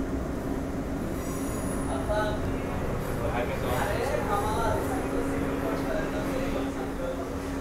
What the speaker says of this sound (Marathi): LHB ट्रेन काय जबरदस्त दिसते आपण इकडून पाहताय.